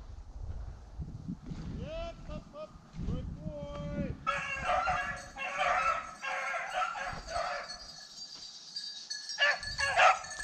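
Hunting dogs bark close by during a snowshoe hare hunt, a burst of yelps and baying calls among people talking outdoors.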